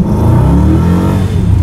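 A Volga El Camino with a 300-horsepower V8 doing a burnout, its engine revving hard and loud up close, with a rough, throbbing roar that wavers in pitch as the rear wheels spin.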